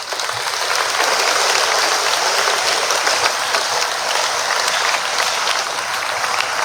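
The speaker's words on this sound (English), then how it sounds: "Let's have a round of applause for these students." An audience at a high school graduation ceremony applauds students receiving silver cords, a loud, dense and continuous clapping that fills the room and holds steady before easing slightly at the end.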